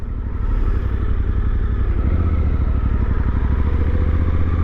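Suzuki V-Strom 800DE motorcycle rolling along with no throttle applied, its engine giving a loud, steady low rumble with fine rapid pulsing and constant wind and road noise throughout.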